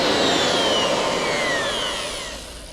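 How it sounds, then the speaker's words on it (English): A router whines loudly and continuously while routing the edges of a wooden cabinet drawer front, its high pitch slowly drifting, fading slightly toward the end. "Now we want to route the edges of it."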